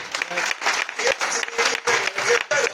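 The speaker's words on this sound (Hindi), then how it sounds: "एक बार तालियां दीदी के लिए।" An audience at a Shamli travel-marketing training meeting breaks into several short bursts of clapping over about three seconds, with voices mixed in among the claps.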